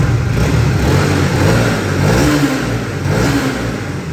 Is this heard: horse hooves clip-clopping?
no